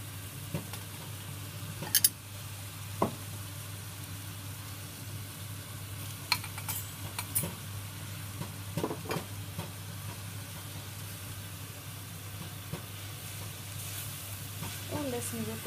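Vegetables sizzling softly in a pan for a meat and vegetable puff pastry filling, with a low steady hiss broken by scattered clinks and scrapes of stirring, close and fairly quiet.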